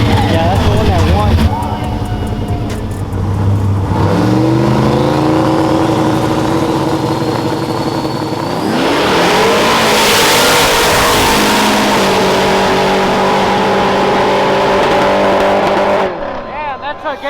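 Boosted trucks revving hard and racing, loud rising engine pitch sweeping up through acceleration runs with shifts, with people talking over the roar.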